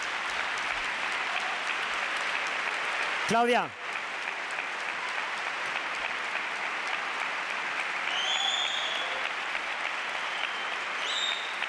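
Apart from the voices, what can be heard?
audience applause at awards ceremony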